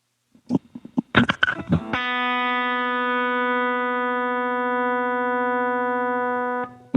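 A guitar runs through a Boss ME-50 with the compressor sustainer maxed, starting with a few short muted plucks and then one struck note that rings on loud, even and barely decaying for several seconds before cutting off.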